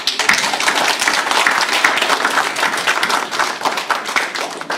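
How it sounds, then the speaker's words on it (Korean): Brisk, close applause from a congregation at a Korean Full Gospel Sunday worship service, dense hand claps sustained evenly throughout with no talking over them. "감사드리면서 격려의 박수 한번"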